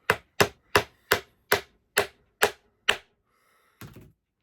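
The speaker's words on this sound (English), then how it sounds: "I'm going to pop each one of these in with the hammer" Hammer tapping old-school skateboard rails into place on a 1988 board, eight sharp, evenly spaced close strikes followed by a pause and one softer, duller knock.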